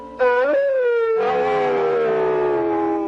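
A long, mournful dog-like howl, loud and close, with a brief first cry followed by a sustained wavering wail that slowly falls in pitch.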